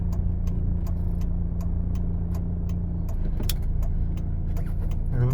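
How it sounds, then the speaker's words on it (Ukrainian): A car's turn-signal indicator ticks in a steady, even rhythm over a low engine hum inside the cabin during a city driving-exam route, with the right and then the left indicator switched on. "Вмикаємо правий показчик повороту"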